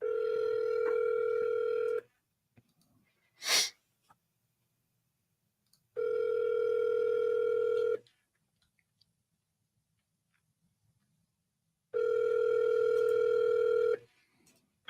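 A telephone call rings through: three long, even ringback tones about two seconds each, separated by long silent gaps, clear and close with no one speaking.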